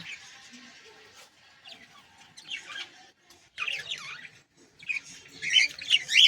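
Two pairs of caged finches chirp and squeak in quick, high bursts that grow busier and louder toward the end, close by with no speech.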